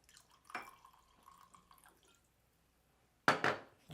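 Liquid is poured into a glass: a few faint drips and trickles, then a brief, close, splashy pour near the end.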